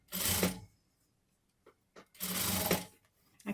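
A sewing machine stitches sweatshirt fleece trimmed with satin, running in two loud, steady bursts separated by a quiet pause with faint handling noises.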